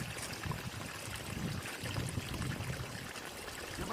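Water gushing under pressure from a solar-powered drip irrigation pipe among farm trees, a steady close splashing flow with pulsing low gurgles.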